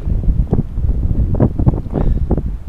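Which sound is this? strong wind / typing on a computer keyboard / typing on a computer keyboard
strong wind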